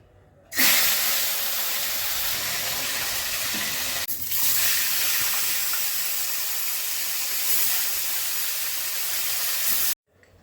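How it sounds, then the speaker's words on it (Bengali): Fish frying in mustard oil in a home kitchen, a loud steady hiss and sizzle that starts abruptly, holds evenly for about nine seconds, then cuts off. "এটা আমি সর্ষের তেলে করব। প্রথমেই আমি মাছগুলো ভেজে নিচ্ছি।"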